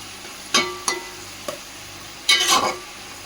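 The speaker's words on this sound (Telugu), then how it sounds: "ఉల్లిపాయలు చక్కగా ఫ్రై అవుతున్నాయి" Chopped onions fry in a pan for an Andhra-style gongura chicken curry, stirred in a few short scraping bursts over a low, steady sizzle, close up with no talking.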